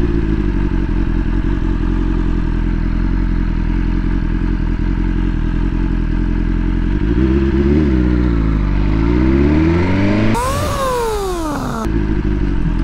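A motorcycle slows from 30 mph to a complete stop while its new brakes are bedded in; a steady engine drone gives way to a falling, wavering note as the bike coasts down, with a brief gust of wind noise.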